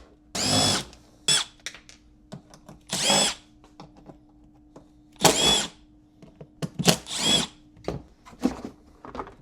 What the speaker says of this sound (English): I'm just going to pop these Phillips screws off and get this side cover off